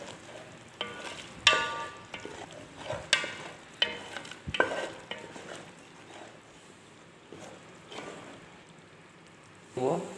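Onion fried until reddish, with garlic paste and tomato paste, sizzles quietly in a pan for Arabic macaroni, broken by sharp intermittent clatters of a spoon stirring against the pan, with no talk.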